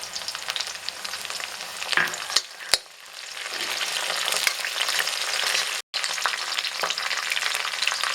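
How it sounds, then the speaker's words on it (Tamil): Onions and curry leaves temper in hot oil for Kerala chickpea curry, giving a steady, close sizzle with a few sharp clinks and a brief break near the end, with no talk. "வெங்காயம் தாளிச்சிட்டு கடலை குழம்பு மேலே போடலாம்."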